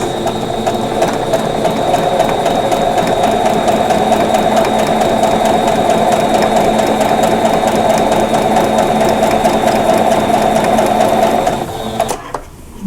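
Sewing machine running steadily at a 2.0 stitch length, joining quilt fabric pieces for a red sunflower block, a continuous near mechanical whir and rapid stitching rhythm for about eleven seconds before stopping.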